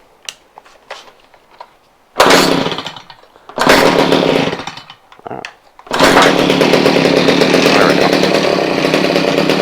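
A Stihl HS45 hedge trimmer with a freshly replaced lock washer fires up after a general tuning. Loud, close engine bursts rev and drop, then settle into a steady sustained run, with a brief spoken remark at the start.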